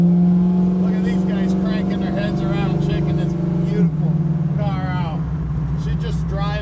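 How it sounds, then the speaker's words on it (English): A 1974 Plymouth Barracuda idles with a deep, steady exhaust rumble, heard close and loud throughout while someone talks over it. "Listen to that exhaust."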